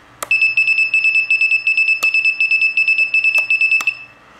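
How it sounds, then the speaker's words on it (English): An electronic buzzer on a Naze32 flight controller, switched from a Taranis transmitter, beeps in a rapid repeating pulse pattern for about four seconds, punctuated by a few sharp clicks, then stops. "it will start buzzing your buzzer"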